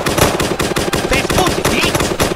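Rapid video-game gunfire during a HoodTales street roleplay, dense bursts of shots crackling steadily through the short clip with no voices over them.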